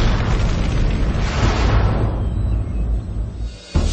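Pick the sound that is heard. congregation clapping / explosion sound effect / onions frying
explosion sound effect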